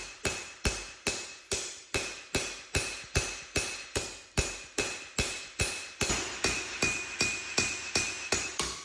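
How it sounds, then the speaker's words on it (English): Steady rhythmic hammer blows ring out on hot steel from a truck leaf spring being forged into a knife, about two strikes per second, sharp and close, with a bright metallic ring lingering between hits. "Keep the hammer in a rhythm, not a panic."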